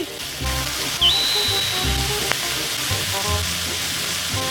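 Shrimp dropped into melted butter in a hot pan fry with a steady close sizzle, a brief sharp clatter partway through, and faint background music underneath.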